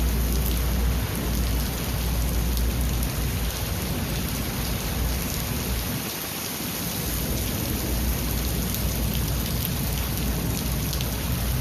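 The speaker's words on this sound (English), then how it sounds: "most of the valley got hit, either with the wind or the rain or the lightning" Monsoon rainstorm pouring steadily with thunder, a dense continuous hiss of heavy rain on surfaces and low rumbles, loud and unbroken for the whole stretch with no voices.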